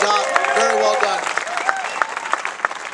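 Fans at Miller Motorsports Park, Utah, applaud at an AMA Supersport race interview, a dense wash of clapping that continues under someone speaking over a loudspeaker.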